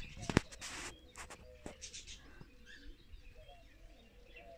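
Zamość pigeons coo softly at a pigeon loft during a training flight, with a sharp click near the start and scattered faint chirps behind a quiet outdoor background.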